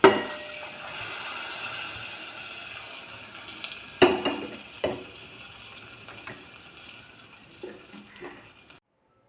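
Fenugreek-powder tempering poured into a mango pulissery curry gives a sudden sizzle and splash, followed by clinks and stirring of the pot, fading to quiet at the end.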